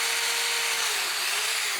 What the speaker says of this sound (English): We're going to drill these through.